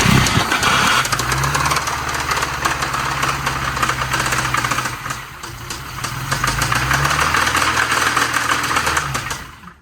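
An old Volvo car engine idles loud and close with a steady low rumble and a knocking, uneven tone, dipping briefly near the middle before picking back up.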